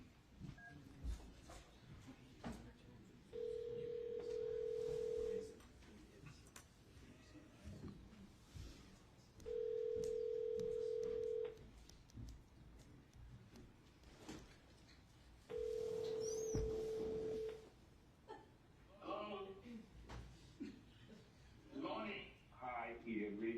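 A telephone line rings during a call in a courtroom, giving three long, steady ring tones a few seconds apart, with quiet room noise and people talking between them.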